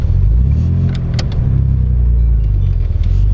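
Mitsubishi Galant VR4 on coilovers pulling away, a low steady engine rumble heard from inside the car, loud and continuous with slight rises as it moves off.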